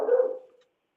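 A dog gives a single short bark, close and clear, then silence.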